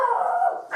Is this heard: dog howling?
yes